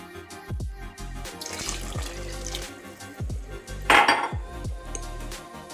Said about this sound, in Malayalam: 2 കപ്പ് തിളച്ച വെള്ളം കൂടെ ഒഴിച്ചു കൊടുത്തു